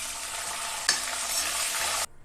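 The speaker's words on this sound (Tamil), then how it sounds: "ஒரு 10 காஞ்ச மிளகாவை போட்டுக்கலாம்." About ten dried red chilies sizzle loudly in hot oil with chana dal for temple-style puliyodharai. The steady, close frying hiss brightens briefly when stirred, then cuts off abruptly near the end.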